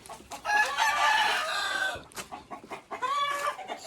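Backyard farm chickens cluck loudly and a rooster crows twice nearby, the long crows standing out clearly over scattered clucking, with no talking.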